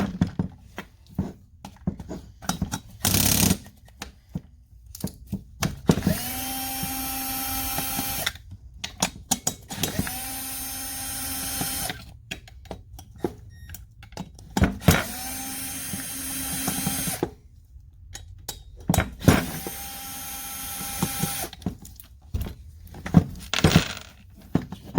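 A power tool spins out the four crank bolts on the bottom of an MS-180-C chainsaw with a suspected main bearing failure, sounding as several loud, whining bursts of a few seconds each, separated by pauses and clinks of handling.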